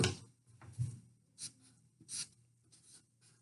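Pen or marker writing the number 42 on paper, several short scratchy strokes with pauses between them, close and fairly quiet, with no talking.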